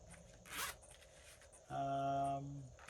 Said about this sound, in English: And another little zipper.